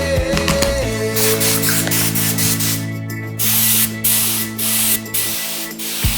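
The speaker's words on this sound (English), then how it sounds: "I loaded the beige skin tone in my spray gun" A spray gun hisses in several steady bursts of beige paint onto a welding shield, with brief pauses, close up, over a background of music.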